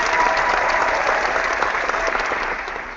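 A game-show studio audience claps and cheers in a dense, loud burst of applause that holds steady for about three seconds and tapers slightly at the end.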